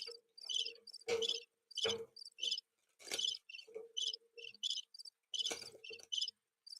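Cricket chirping sound effect, loud bursts of high trilling chirps repeating in quick irregular pulses against near silence.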